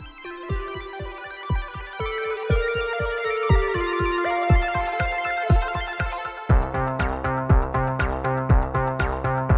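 A phone ringtone plays loud and close, a rapid repeating electronic melody of short tonal pulses that shifts into a brighter, denser pattern partway through, with no voices.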